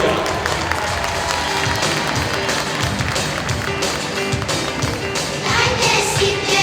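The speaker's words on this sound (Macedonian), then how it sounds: "Затоа да ги охрабриме со голем аплауз" Loud, sustained applause from an audience at a kindergarten year-end performance, dense clapping filling the whole stretch with some crowd murmur underneath.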